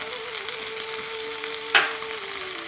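Cumin powder and red chili powder frying in a pan for butter chicken sauce, a steady close sizzle with a faint hum and one brief scrape or clink of a utensil.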